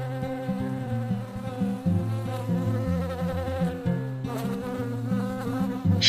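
A buzzing bee sound effect drones continuously and loudly up close, its wavering, pitch-shifting hum layered in overlapping tones with no talk.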